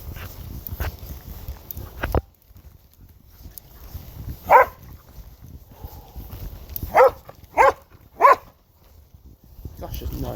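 Dogs on a walk barking in a few loud isolated bursts amid quieter background shuffling and footsteps, with gaps of near silence between barks.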